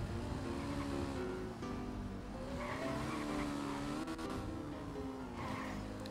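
Motorcycle race on snow in GTA V Online, with a loud continuous engine drone that rises and falls in pitch as the bike zigzags between checkpoints, steady throughout with no talk.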